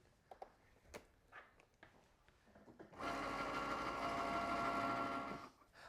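A Cricut cutting machine in fast mode cuts a vinyl stencil, starting after a few soft handling clicks and then running as a steady, close, whirring motor drone for about three seconds before stopping.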